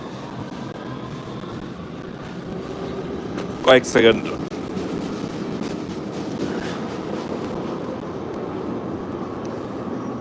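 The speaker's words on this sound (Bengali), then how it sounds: "মেট্রো চলে গেছে" A metro train in an underground station in Italy runs with a steady mechanical rumble, briefly broken by a short, high screech, while people talk nearby.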